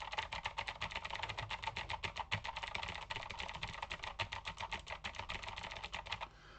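Fast, continuous typing on a computer keyboard, a dense rhythm of close key clicks that stops abruptly near the end.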